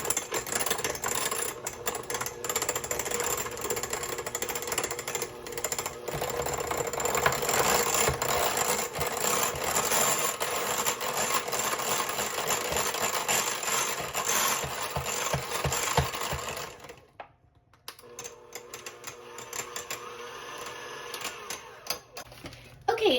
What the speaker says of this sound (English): use my electric mixer to mash this a little bit